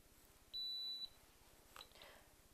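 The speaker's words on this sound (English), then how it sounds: "When you see the flashing and hear the beeps" A single loud electronic beep from a ZigBee lamp as its remote is touch linked, a clean half-second tone close by, followed by faint handling noise.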